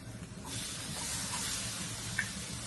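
Tomatoes are tipped into a hot pan of well-browned onion, and a loud, close hiss bursts up about half a second in, then holds steady and strong to the end.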